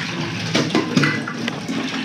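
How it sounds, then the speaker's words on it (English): Water drains out of a toilet tank during a float and flapper repair, a gurgling, splashing rush with a few louder glugs over about two seconds, close up and without talk. "let that water drain."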